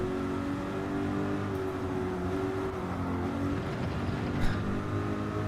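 Corvette racing through medium and high speed corners in Gran Turismo 7, a steady loud engine drone with sustained tonal whine, continuous throughout with slight pitch shifts.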